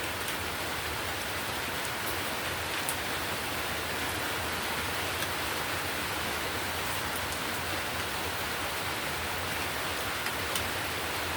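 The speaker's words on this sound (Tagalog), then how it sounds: "Kay gandang pakinggan ng ulan" Steady rain falling outdoors, a dense even hiss of drops on surfaces that continues unbroken and fairly close throughout, with no voices.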